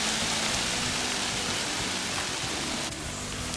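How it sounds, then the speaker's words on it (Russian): Wind shakes water off trees in a summer morning forest so it pours down like rain, a steady dense broadband hiss that stays even throughout with no voices. "Ветер дует. Из деревьев льет, как будто дождь."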